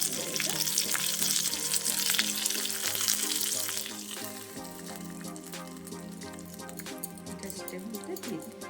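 Food frying in a pan with curry leaves being stirred, a steady loud sizzle with scraping stirs that eases after a few seconds, while a voice talks over it.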